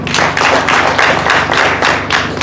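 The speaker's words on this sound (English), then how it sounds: "We clap for him again." A crowd claps in a brisk, fairly even rhythm, loud and close, with no talking over it.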